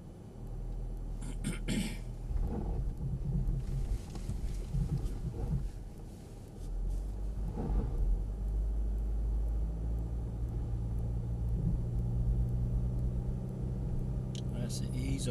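A Mercedes 4x4 engine on an off-road driving course, a steady low rumble with gentle throttle rises as it crawls over terrain, while an instructor talks intermittently over it.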